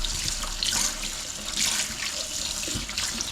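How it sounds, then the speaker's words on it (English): Tap water runs steadily into a sink while a cleaned squid mantle is rinsed out under it, a close, continuous splashing hiss with small surges and no voices. "Give it a rinse inside, get all the goo out"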